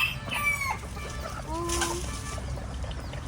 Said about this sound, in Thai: ไก่ป่ารอบนี้นะ